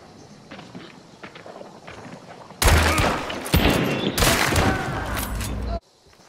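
Sudden loud video game gunshots and a sustained burst of fire cut in after a quiet stretch, crackling for about three seconds before stopping abruptly, with faint footstep-like sounds earlier.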